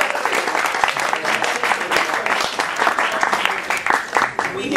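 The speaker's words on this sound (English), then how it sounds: "A little round of applause for Jerry." Applause from a seated audience at a Wine Media Guild Hall of Fame induction honouring Jerry Boyd, a steady dense patter of clapping lasting several seconds at moderate loudness.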